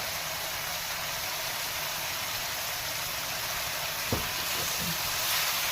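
Chopped vegetables and chicken cooking together in a pan for fajita pasta, a steady hissing sizzle close up with one brief knock of a utensil near the end.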